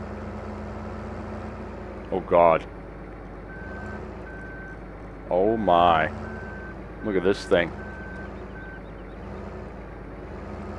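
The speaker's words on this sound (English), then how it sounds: "now that's a tractor." A tracked tractor in Farming Simulator 15 idles with a steady low engine drone while a reversing beeper pulses in spaced tones; a man exclaims in short bursts over it.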